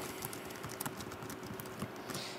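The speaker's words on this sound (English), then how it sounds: "Once you're done with that, you can start typing your post." Fingers tap quickly and irregularly on a keyboard, a faint close clatter of keystrokes while writing a post, with no voices.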